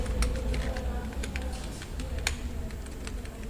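Keys clatter on a computer keyboard as HTML list items are typed, a run of quick close taps with a steady low hum underneath.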